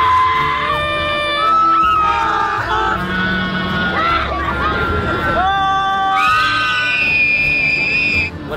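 A party crowd at a PUBG Mobile anniversary celebration screams and yells together to release frustration, a loud sustained mass of overlapping shrieks and whoops with rising and falling pitches and babbling voices throughout.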